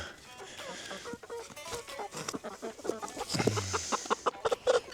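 A blue hen clucks softly in short, choppy bursts, fairly quiet and close, with a faint voice briefly in the background.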